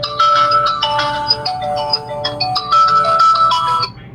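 Find-watch ringtone playing from a military-style smartwatch with a 1.85-inch screen: a bright, busy electronic melody of quick repeating notes, fairly loud and close, heard alone without talk.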